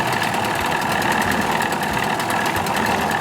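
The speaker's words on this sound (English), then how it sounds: "I'm just going to do a quick run." A 25 HP Evinrude outboard motor runs steadily on a short test run, giving a loud, close, continuous rumbling drone with a rapid knocking texture and no pauses or speech.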